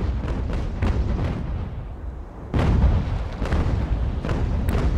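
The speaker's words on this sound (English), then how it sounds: "Now we've got two ships firing on this one ship." Ship cannons fire repeatedly in a naval battle in the game Ultimate Admiral: Age of Sail, with heavy booms rolling out in an irregular series over a continuous low rumble, two louder blasts standing out.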